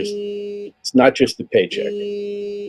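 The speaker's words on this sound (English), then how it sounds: "That's my phone going off." A phone rings with a steady electronic two-tone ring, sounding once before someone talks over a gap and then ringing again after him.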